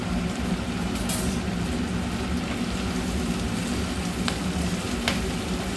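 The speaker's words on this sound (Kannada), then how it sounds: "ಇವಾಗ ಕ್ಯಾಪ್ಸಿಕಮನ್ನು ಸೇರಿಸ್ತಾ ಇದ್ದೀನಿ. ಇದು ಸ್ವಲ್ಪ ಫ್ರೈ ಮಾಡ್ತಾ ಬೇಯಿಸೋಣ." Sliced capsicum sizzles and fries steadily in an open pan, a continuous close crackle with no talking over it.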